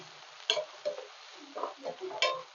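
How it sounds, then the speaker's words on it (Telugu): Onions frying with curry leaves in a pan for chicken fry, heard as a soft sizzle broken by several clinks and scrapes of a utensil stirring against the pan. "ఆల్రెడీ ఆనియన్స్ ఎర్రగా అయిపోయి మాడుతున్నాయి"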